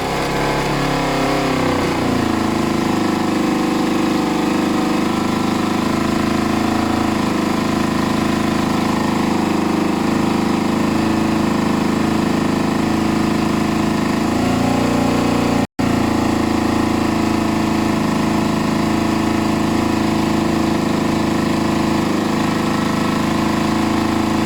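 A Kawasaki ZL600 Eliminator motorcycle, a non-running barn find, runs after restarting, its engine droning steadily and loudly for a long stretch, rising early as it revs then settling into a constant buzzing idle.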